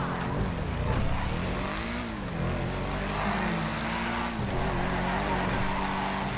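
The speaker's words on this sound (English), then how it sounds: "Can you even hear me over this engine?" A car engine in GTA 5 Online revs up and down repeatedly with a rising and falling growl. It sounds close and continuous, with a faint voice underneath.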